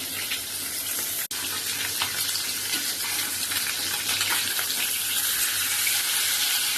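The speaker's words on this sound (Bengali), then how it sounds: "হালকা করে ভেজে নেবো বেশি ভাজবো না" Ginger, garlic and green chilli paste frying lightly in a pan, heard as a steady broadband sizzle with a hiss like running water, one brief dropout, and no talking.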